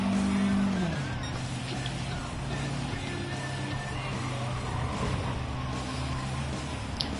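Turbocharged race car engine in Gran Turismo 7 drones steadily throughout, a loud pitched note dropping in the first second, then holding a sustained lower hum; a voice speaks over it.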